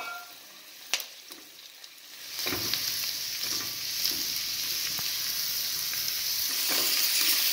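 Chopped onion and sliced mushrooms sautéing in a pan: a few spoon clinks, then a bright steady sizzle that swells as the mushrooms hit the hot pan and continues while being stirred.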